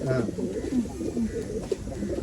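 Pigeons for sale in Bangalore, including a Guldar male and a Makshi female, coo steadily at close range with low, throaty rolling calls. Faint background chatter is mixed in.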